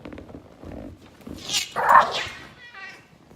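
A jealous house dog barks and whimpers close by, a few short yips and whines rising over brief talk in an indoor room.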